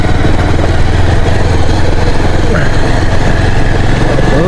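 A motorbike ridden over a rough, broken road near a stream, its engine droning loud and steady throughout with a rumbling low end and constant rattle from the rough surface.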